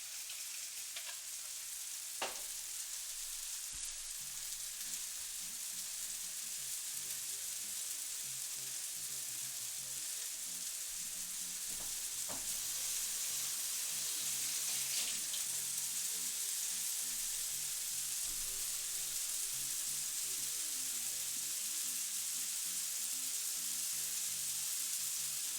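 Tomatoes and vegetables char in a hot pan for balsamic chicken, giving a steady, continuous sizzle and hiss for the full stretch, with a few sharp pops and crackles rising above it.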